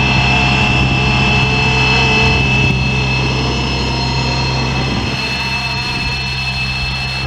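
A FLY WING FW450 V3 RC helicopter lifts off and flies, its motor and rotors giving a loud, steady whine with constant tonal hum that eases slightly in pitch and level near the end.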